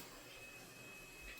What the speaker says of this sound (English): If you hear something going in the background, they got my robot vacuum going.